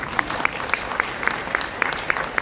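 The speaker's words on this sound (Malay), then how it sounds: "Satu tepukan untuk MOA." A seminar audience claps steadily together, with a dense patter of many hands and faint sharper individual claps in a regular rhythm.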